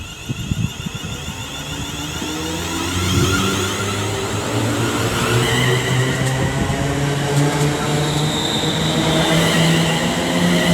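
Train departing Marston Green station on the West Coast Main Line, its engine hum and wheel noise swelling as it pulls away, with faint metallic squeals, loud and near with no talk.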